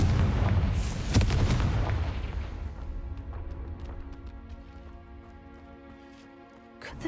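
A Confringo fire spell explodes in the Hogwarts Legacy game: a heavy, close boom and crackling burst at the start that fades over several seconds into a quieter, lingering ringing tail.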